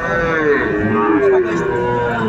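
A young Sahiwal bull calf gives a loud, close, drawn-out moo lasting a couple of seconds.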